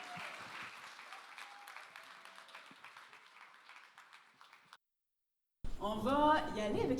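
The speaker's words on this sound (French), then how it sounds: "Main d'applaudissement." Applause for award recipients at a year-end honours gala, moderate scattered clapping over a faint murmur that thins out, stops, then gives way to people talking.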